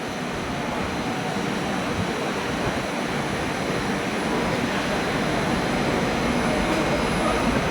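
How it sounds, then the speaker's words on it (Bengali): A Kolkata Metro train pulls into Dum Dum station with a loud, steady broadband roar and rumble that holds throughout and swells slightly toward the end. "আমাদের মেট্রো ট্রেন এখন ঢুকছে"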